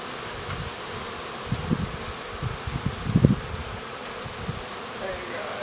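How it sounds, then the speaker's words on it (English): Bees hum and buzz continuously around a hive being smoked during a bee removal, a steady low drone with louder bursts as individual insects pass near. "Seems like most of the hives right back here, actually. Most of the bees."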